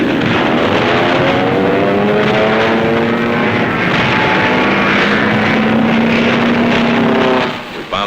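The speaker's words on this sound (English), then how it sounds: "One of our planes scores a direct hit." WWII military aircraft propeller engines over the Tarawa assault, a loud continuous droning roar with shifting tones for about seven seconds before fading slightly at the end.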